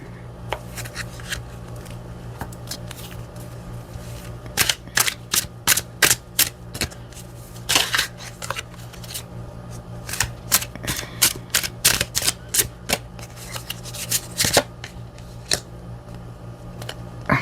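Tarot cards being shuffled and cut during a card reading, a run of crisp riffling snaps and flicks that come in bursts over a steady low hum, with no talking.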